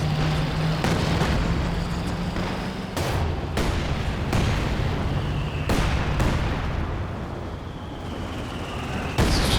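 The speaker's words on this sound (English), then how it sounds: "Oh, that's a lot of explosions." A string of heavy booms and artillery blasts from a battle in the video game Company of Heroes 2, several sharp impacts over a continuous rumbling roar, loud and close.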